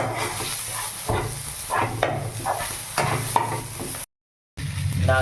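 Onion with ginger-garlic paste fries in a pan while being stirred, a dense continuous sizzle with rhythmic scraping strokes, close and loud, cut by a brief dropout of silence near the end.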